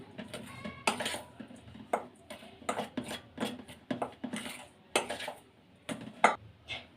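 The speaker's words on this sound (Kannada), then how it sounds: "ಮೊದಲಿಗೆ ಮಿಕ್ಸ್ ಮಾಡ್ಕೊಳ್ಳೋಣ." Gram flour is dry-mixed with turmeric, chilli powder and salt in a bowl, giving a run of close clinks and scraping taps of a spoon against the bowl in irregular bursts, with no voices.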